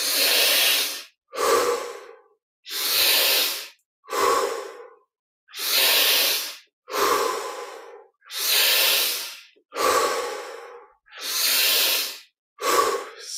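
Slow, deep breaths during a guided breathing exercise: about eight long inhales and exhales alternate with brief pauses, close and loud, each breath lasting over a second, with no talk.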